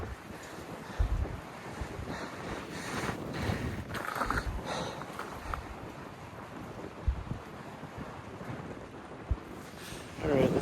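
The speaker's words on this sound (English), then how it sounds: "It's a lot of wind, but we'll see how it works." Strong wind gusts through a Texas slot canyon, rumbling and buffeting the microphone with uneven thumps and a steady roar.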